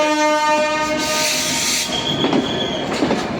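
A train horn sounds with steady tones at the start, then fades as railcars rumble and wheels squeal while the Jahanabad Express pulls away from Khulna, bound for Dhaka, on its inaugural run.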